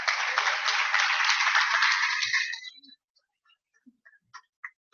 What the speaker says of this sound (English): So let's give a round of applause for them as well.